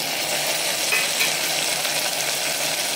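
Chopped large tomato tipped into hot oil for a Khandeshi-style khichdi-kadhi meal, giving a steady, dense sizzle that stays loud and even throughout with no voices.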